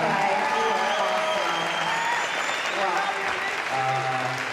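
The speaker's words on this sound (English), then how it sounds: "So, okay, guys, can we give a round of applause?" An audience applauds at a comic con Q&A panel in Puerto Rico, a dense, steady wash of clapping from a crowd that lasts throughout, with a voice speaking faintly over it near the end.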